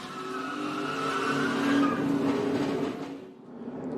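NASCAR Gen 6 stock cars roaring and sliding across a superspeedway track during a crash, loud engine drone with tyre scrubbing swelling to a peak before fading, then a brief dip and returning rumble.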